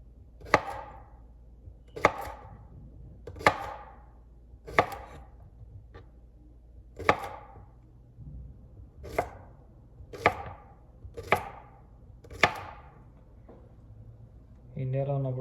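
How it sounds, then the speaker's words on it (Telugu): Chopping food on a board with a dull kitchen knife in a home kitchen, about a dozen loud, evenly spaced chops with short pauses between them. Someone speaks briefly near the end. "కత్తి పదును తగ్గినట్టుంది. కొంచెం ఇబ్బంది కట్ చేయడానికి"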